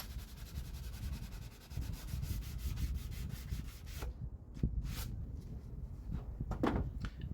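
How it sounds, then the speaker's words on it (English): Hand sanding of plywood for a beehive nuc box: continuous rhythmic rasping strokes up close, then a few separate scrubbing and rubbing passes with short pauses between them. "This sanding is going on for a long time."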